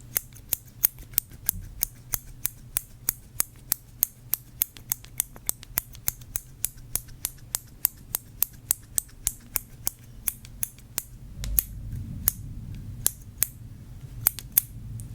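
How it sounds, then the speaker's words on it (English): Metal scissors handled and wiped in a quiet room give a long run of sharp, close clicks and snips at a steady rhythm. A low rumble of distant thunder swells beneath them near the end. "I have a pair of scissors that need to be wiped"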